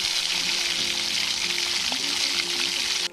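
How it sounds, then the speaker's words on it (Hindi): Potato balls deep-fry in hot oil over a high flame, producing a steady, loud, even hiss and bubbling that runs unbroken before cutting off abruptly at the end. "पैन में डालते हैं पोटैटो बॉल्स और इन्हें हाई फ्लेम पर अच्छे से डीप फ्राई कर लेना है।"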